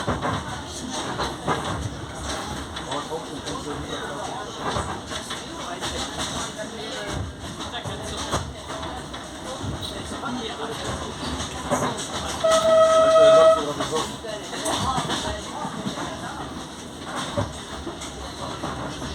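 A 68-tonne, 600-horsepower diesel locomotive on the Cotentin line rumbles steadily past with a continuous engine drone and rail noise, and a brief horn tone sounds partway through.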